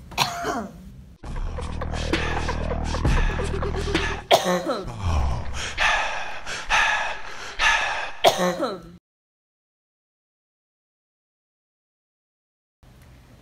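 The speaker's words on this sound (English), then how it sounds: "Then we're going to lean backwards and cough." A person coughs and clears their throat repeatedly in close, harsh bursts while leaning backwards during a pulmonary exercise, followed by several seconds of silence.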